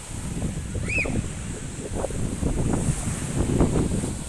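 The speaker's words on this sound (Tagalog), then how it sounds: "mapresko na po dahil mahangin na" Gusty wind blows across the microphone in uneven buffets, with a soft wash like distant surf and a brief chirp early on.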